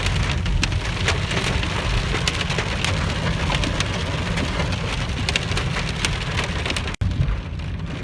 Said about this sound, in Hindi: बारिश इतनी ज़ोर से हो रही है और ओले भी पड़ रहे हैं